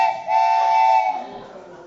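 A voice imitates a train's choo-choo whistle with one sustained, whistle-like hoot lasting about a second that then fades out, close and fairly loud.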